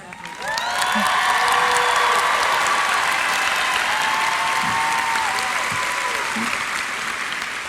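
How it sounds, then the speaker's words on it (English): Sustained applause from a large graduation audience at a South Charleston High School ceremony, loud and steady for several seconds after a quick swell, with scattered voices and faint whoops mixed into the clapping. "Sophia, will you please stand so we can applaud your efforts?"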